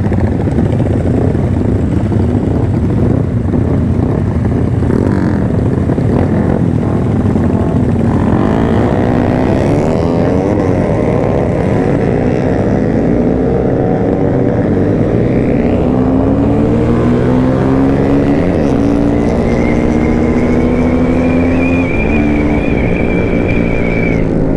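A motorcycle rides along, its engine humming loud and close throughout with shifting pitch as it speeds up and eases off, wind rushing over it, no voices heard.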